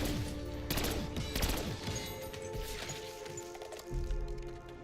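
Rapid gunfire from a low-recoil gun in the video game Black Ops 6 Zombies, with bursts of cracking shots alongside game clatter and impacts, moderately quiet in the mix.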